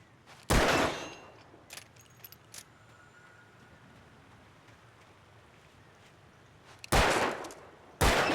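Gunshots in the Alan Wake video game, one setting off a bear trap: a sharp loud blast early on, then two more bangs near the end, separated by quiet ambience with faint clicks.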